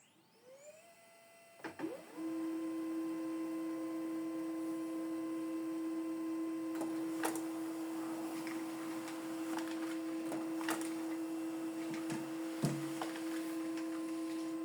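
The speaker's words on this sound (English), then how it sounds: "These are the documents we printed out, 2 copies." An HP LaserJet 107w black-and-white laser printer runs a job: a rising startup whine settles into a steady electronic tone with a mechanical hum, broken by clicks and paper-feed thumps, close and continuous with no talk.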